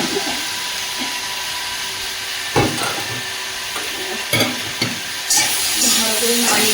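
Vegetables with chopped tomato sizzle and fry in a pan, a steady bright hiss broken by several scraping stirs of the spatula at irregular intervals, close by.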